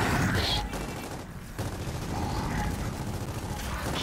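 Video game gunfire rattles steadily through a dense, noisy mix of in-game sound, with a brief lull before the firing resumes.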